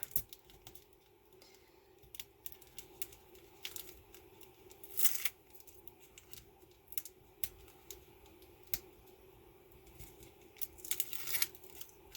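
Backing peeled off an adhesive strip while making a shaker card, a faint series of small crinkly ticks and a soft tearing rasp over a quiet room hum, close up with no talking.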